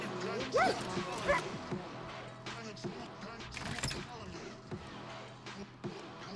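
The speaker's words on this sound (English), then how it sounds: "Find what the dog wants." A dog in the Far Cry New Dawn video game gives a couple of short whimpering yips and barks early on, set against busy game music and effects.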